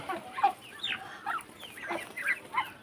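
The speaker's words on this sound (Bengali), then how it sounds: "এটা হচ্ছে হাঁস, ঠিক আছে।" Several Chinese ducks quack and chatter in short, irregular bursts while feeding, close by and moderately loud.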